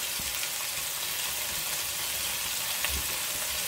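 Ingredients for beef bourguignon browning in a pan give a constant, even sizzle that stays close and steady throughout, with no voices over it.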